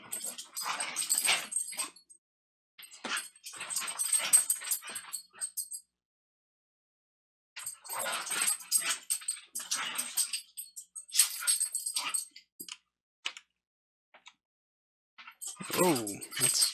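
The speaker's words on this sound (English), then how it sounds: "Sorry about the dog party behind me." Dogs playing indoors, with bursts of whimpering, yips and scuffling that come and go over several seconds, broken by short quiet gaps, heard fairly close in the room.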